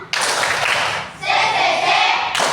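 A rhythmic "tepuk semangat" clap from a group in a classroom, loud dense clapping filling the short stretch with a brief pause midway, voices faint underneath.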